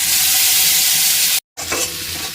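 Whole five-spice seeds and a bay leaf crackle and sizzle steadily in hot oil in a wok, a loud continuous frying hiss cut by a brief silent gap before resuming slightly softer.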